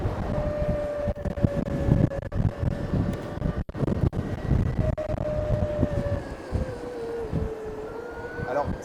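A BMW CE 02 electric motorcycle accelerates along a faster road, its rising electric whine climbing steadily beneath heavy wind rush, with a rider's voice talking over it.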